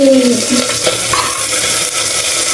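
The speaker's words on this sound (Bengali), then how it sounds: "দিচ্ছি পেঁয়াজ কুচি" Chopped onion hits hot mustard oil with a cinnamon piece and bay leaf, bursting into a loud, steady, close sizzle with light stirring and no voices.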